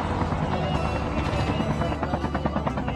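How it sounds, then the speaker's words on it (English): A helicopter in the Call of Duty Mobile video game drones steadily and loudly throughout, its rotor chop mixed with gunfire-like bursts and in-game clutter, with talk running over it. "Get in the chopper."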